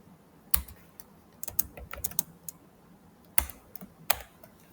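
Computer keyboard typing while a database query is entered, in short irregular bursts of close, crisp keystrokes with brief pauses between them and no talking.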